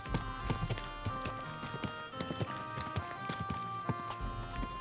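Horse hooves clip-clop at an easy walking pace through a town in the video game Kingdom Come 2, a close, regular run of hollow knocks over a faint background hum.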